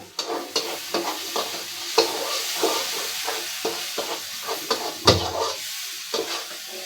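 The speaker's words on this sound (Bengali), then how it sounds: "খুব সুন্দর করে কষানো হয়ে গেছে মশলা।" Spice masala stirred and sautéed in a pan, a steady frying sizzle broken by repeated scraping spoon strokes in an uneven rhythm, close and moderately loud, with one heavier knock near the end.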